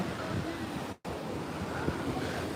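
Ocean surf at Panambur Beach roars as a steady, dense wash, with gusts of wind buffeting the microphone and a brief dropout partway through.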